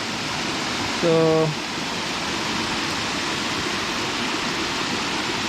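A muddy river running high just after rain gives a steady, even rushing wash, with a brief spoken word near the start.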